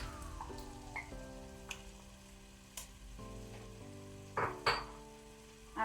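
Curd fries on low flame in a pan for egg biryani, with a soft steady sizzle and occasional stirring scrapes near the end, close and fairly quiet.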